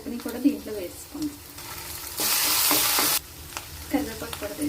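Moong dal and a tempering of spices fry in a pan for bottle gourd curry, a steady sizzle with stirring scrapes and a burst of louder hissing, while a person talks intermittently.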